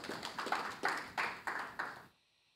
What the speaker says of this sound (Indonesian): Tepuk tangan buat Yesus Kristus, haleluya.